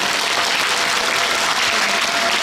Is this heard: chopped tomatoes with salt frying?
no